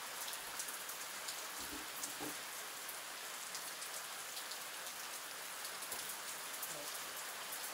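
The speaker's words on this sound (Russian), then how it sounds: "Вот на улице дождь идет." Steady rain pours outdoors at night beside a campfire, with a dense, even hiss, and a few faint knocks and thuds sound underneath it.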